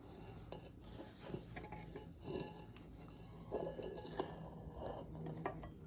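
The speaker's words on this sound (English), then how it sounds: "you're going to continue to fold it until it becomes shiny and it starts to create ribbons off the spatula" A spatula folds macaron batter in a bowl, giving soft, repeated scraping and sticky squishing strokes with occasional faint clinks against the bowl. The sounds are close and fairly quiet, and no one speaks.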